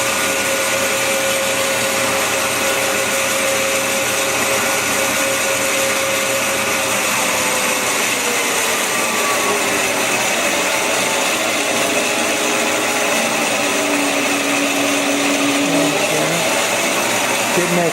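A PM 1228 metal lathe spins at about 1,000 RPM, giving a steady, loud machine whir with a constant mechanical hum throughout, unbroken and close by.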